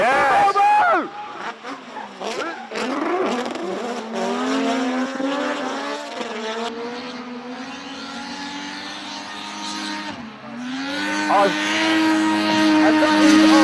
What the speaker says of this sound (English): 109 from the 1000 horsepower Volvo 745